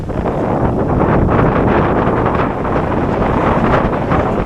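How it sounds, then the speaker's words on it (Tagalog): Strong wind buffets the microphone on Bituon Beach in Mobo, Masbate, a loud, steady roar filling the whole clip with no talking. "Ang lakas ng hangin dito mga kalibre."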